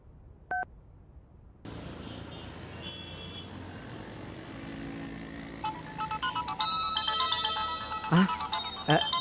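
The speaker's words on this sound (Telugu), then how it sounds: "రాజా దగ్గర నుంచేనమ్మా ఫోను" A phone rings with a melodic ringtone, faint at first and then growing busier and louder over background traffic-like noise, with a short tonal beep near the start.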